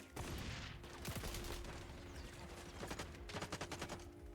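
Rapid bursts of automatic gunfire in the online shooter XDefiant, loud and close, with repeated volleys and a dense rattling stretch toward the end over constant game ambience.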